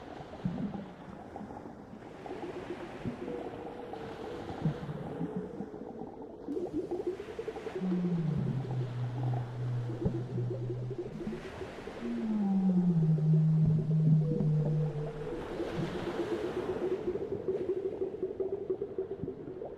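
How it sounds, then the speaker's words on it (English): Low, drawn-out whale calls rise and hold twice over a steady underwater wash, distant and mournful, with faint higher tones drifting in between. "In the distance, try to hear the song of a whale."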